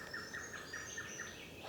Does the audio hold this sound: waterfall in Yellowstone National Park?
no